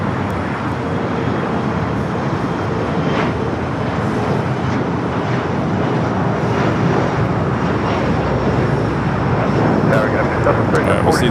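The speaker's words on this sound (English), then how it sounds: "Japan Airlines A350 making that final turn, heading into the southeast side of Tom Bradley" A Japan Airlines Airbus A350 on final approach to Los Angeles International Airport produces a continuous broad jet engine roar, steady and moderately distant, with faint background traffic noise underneath.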